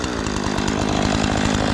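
Gas chainsaw cutting a tree, a loud, close, steady buzzing whine with a throbbing low rattle and no pauses.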